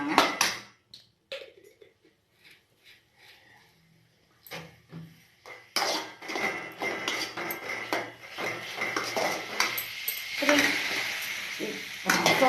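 Chicken Manchurian sauce with soy sauce frying in a pan for an Indo-Chinese dish, starting with sparse clinks and scrapes, then building into a steady, close sizzle with stirring and utensil knocks through the second half.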